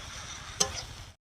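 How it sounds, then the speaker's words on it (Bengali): Jackfruit and potato stir-fried with spice paste in a pan, a soft steady sizzle with one sharp clatter of spatula near the middle, close and fairly quiet. "এবারে এঁচোড় আর আলু ভাজাটা মশলার সাথে কষিয়ে নেবো"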